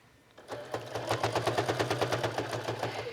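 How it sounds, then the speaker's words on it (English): A sewing machine runs steadily, its needle hammering in a fast, even rhythm with a low motor hum underneath. "at the sewing machine, we're just gonna stitch all the way around the outside of the wallet"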